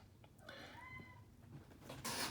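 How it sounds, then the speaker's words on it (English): A cat lets out one drawn-out, rising meow in a quiet indoor room. A rustling noise follows it. "This cat's gonna drive us all crazy."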